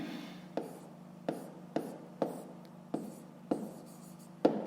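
Handwriting on paper during a fifth-grade maths exercise: steady scratching strokes broken by about eight sharp taps as the pen lifts and sets down, close and quiet.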